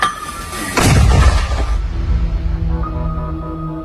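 A single deafening artillery blast booms close by, then rolls and rumbles away into a low echoing tail.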